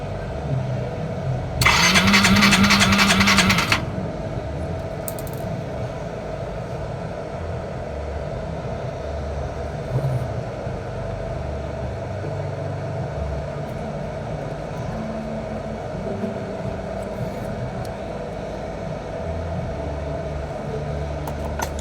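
A Yamaha Mio i 125 motor scooter engine cranks with a harsh buzzing whir for a couple of seconds, then catches and settles into a steady low idle.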